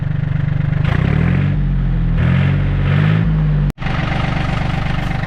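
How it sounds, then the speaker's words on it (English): A John Deere 870 diesel tractor engine runs steadily as it is driven, a loud continuous low drone with rising and falling tones and a brief cut near the end before it resumes. "we're going to drive the tractor around a little bit and let her warm up"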